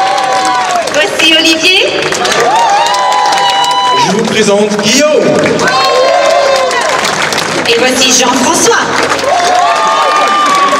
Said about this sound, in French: Merci d'applaudir très fort.